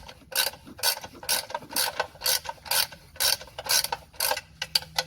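Bolts being screwed in halfway by hand ratchet on a VE Commodore transmission in a shed or driveway, a close, steady series of rapid ratcheting clicks in short bursts with no talk.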